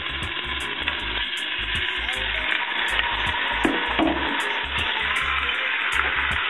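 Meat hisses and sizzles steadily in a hot pan while browning for a Genovese pasta sauce, a dense continuous fry with occasional stirring knocks, close and fairly loud.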